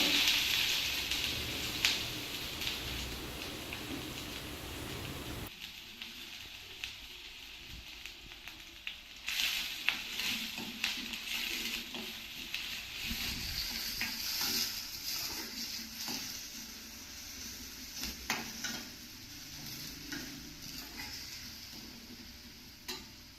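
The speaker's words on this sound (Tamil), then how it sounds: "இந்த மாதிரி கொஞ்சம் நேரம் வதக்கிக்கிட்டே இருங்க." Onions sautéing in a pan for mushroom gravy give a steady, close sizzling crackle, with scattered clicks and scrapes from stirring and no voices.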